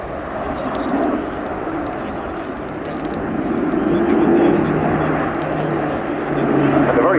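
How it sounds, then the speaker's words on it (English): An Airbus A400M military transport aircraft banks through a display turn at an air show, its turboprop engines a loud, swelling roar with a humming drone, while a commentator talks over it. "Gentle 70-degree angle of bank turn there. This aircraft capable of 90 degrees angle of bank whilst loaded"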